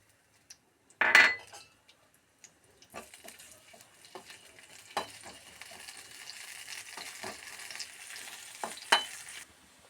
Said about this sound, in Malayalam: അതിലേക്ക് വെളിച്ചെണ്ണ വെച്ചു നമുക്ക് ചെറിയ ഉള്ളി അരിഞ്ഞത് ഇട്ട് കൊടുക്കാം